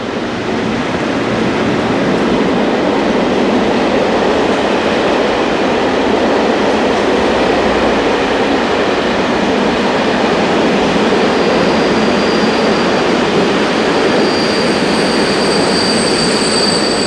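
British Rail Class 58 locomotive 58033 hauls a freight train past Voltaire Road Junction, producing a loud, continuous roar of wagons and wheels with faint squealing toward the end.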